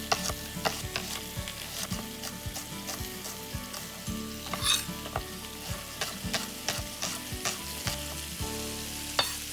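Shallots sautéing in oil and butter in a pan, a steady loud sizzle and crackle throughout with frequent clicks and scrapes of stirring, no talking.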